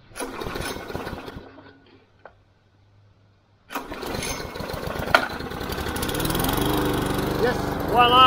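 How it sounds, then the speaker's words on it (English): A Victor lawn mower engine catches after a failed pull, sputtering briefly, going quiet, then starting and settling into a steady, loud running drone. "Yes, voila, we have action. Let's get some mowing done and get rid of this damn forest."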